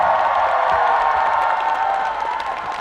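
Audience at a public event shouting and cheering, a broad roar of voices with scattered whoops that holds steady and slowly eases off.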